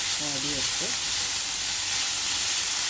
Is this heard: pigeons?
no